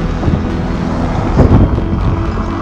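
Strong gusting wind buffets the microphone while cycling through the streets of Reykjavik as a storm builds, a loud low rumbling roar that swells to a peak midway and then holds steady, with no voices.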